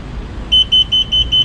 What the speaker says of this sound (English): you hear 2 beep, followed by 3 beep, and followed by 4 beeps.